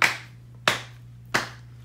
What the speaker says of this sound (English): So we're gonna clap one, two times